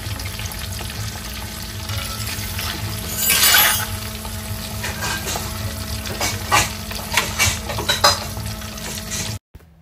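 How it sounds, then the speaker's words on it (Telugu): Boiled eggs frying in a kadai of hot oil with turmeric, a loud continuous sizzle with scraping stirs and clattering bursts, ending abruptly. "ఆ ఎగ్స్ వేసుకుని కొంచెం పసుపు కూడా వేసుకుని ఫ్రై చేసుకోవాలి బాగా."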